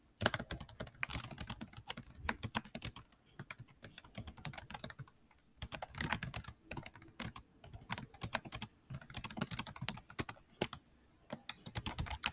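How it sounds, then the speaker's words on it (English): Fingers type on a computer keyboard in bursts of rapid clicking keystrokes broken by short pauses, close and fairly quiet, with no talking. "let's write that down"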